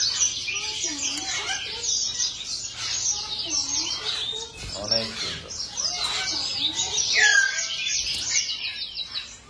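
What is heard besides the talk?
birds chirping at Chatuchak bird market, Bangkok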